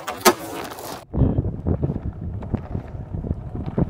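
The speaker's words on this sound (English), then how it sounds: "watch me do an ollie" A skateboard ollie recorded through an in-ear headset microphone: one sharp clack near the start, a second of near quiet while airborne, then the rough rumble of wheels rolling again with wind noise.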